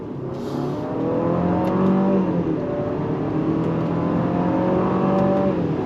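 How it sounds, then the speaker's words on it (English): A 2026 Infiniti QX60 Sport luxury SUV accelerates at full throttle, its engine droning loudly and steadily from inside the cabin, climbing in pitch through several paddle-shifted gears. "And then we're going to go on throttle using the paddles here."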